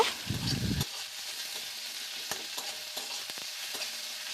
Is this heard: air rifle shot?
no